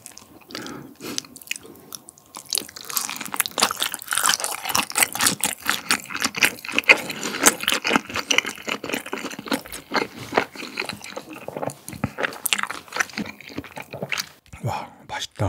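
Crispy fried cream shrimp bitten and chewed close to the microphone, loud crunchy bites followed by rhythmic wet chewing, with a little quiet voice in between.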